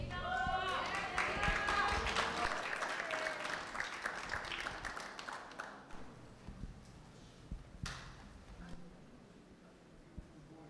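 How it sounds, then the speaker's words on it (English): Pageant audience at the Miss Samoa Hawaii presentation applauds steadily, dense clapping mixed with cheers and voices that gradually thins out, with a brief louder flare near the end. "Another round of applause for our reigning Miss Samoa Hawaii, Miss Zaina Vera Mola."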